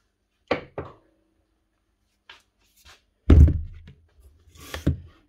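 A big hammer beats an Allen key set against a power tool chuck jaw to loosen it on a bench, giving a few sharp, scattered thunks with quiet gaps and one heavier, ringing blow near the end.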